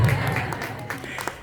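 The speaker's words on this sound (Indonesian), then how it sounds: "tepuk tangan yang semangat dong" Audience applause at an Islamic school parenting seminar, a short burst of clapping from a crowd mixed with voices and room noise.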